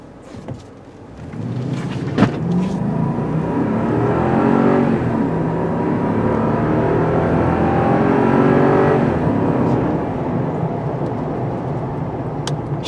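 A 2019 Lexus LX570 with a V8 engine accelerating, a loud, sustained engine roar that builds and holds for several seconds with a rising drone, heard from close by with no talking.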